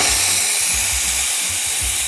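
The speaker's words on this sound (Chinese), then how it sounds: "给你看蒸汽会不会很猛" A WPM Primus espresso machine's steam wand, set to full power, lets out a loud, continuous close-up hiss of steam for the whole stretch, with a low pulsing rumble underneath.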